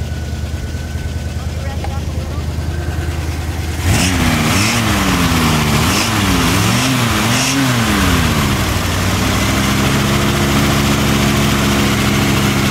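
Close-up 1976 Chevrolet Silverado K10 pickup engine with fresh oil and spark plugs, idling low before several sharp revs rise and fall in quick succession, then settling back into a louder, steady idle.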